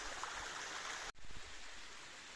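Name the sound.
small waterfall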